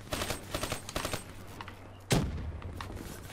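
Gunfire from the Call of Duty Black Ops 3 video game, a burst of rapid shots early on followed by a single louder blast midway, with a steady hum underneath.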